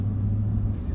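Steady low exhaust drone from a 2013 Jeep Grand Cherokee fitted with a DynoMax exhaust, heard from inside the cabin on the road as a constant, even hum with no speech.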